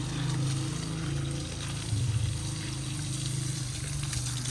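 Water sprays steadily from a hose onto clothes being cleaned, a continuous close hissing splash with a low rumbling undertone that swells slightly midway.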